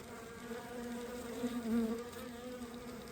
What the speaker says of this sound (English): I can even hear them kind of working on it.